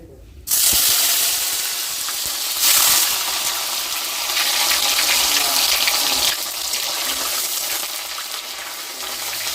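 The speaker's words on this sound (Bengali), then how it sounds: "তেল গরম হয়ে গেছে, এবার পনিরটাকে ভেজে নেব হালকা করে।" A sudden burst of loud, hissing sizzle as pieces of paneer hit hot white cooking oil, then continuing crackling frying with slight swells in intensity.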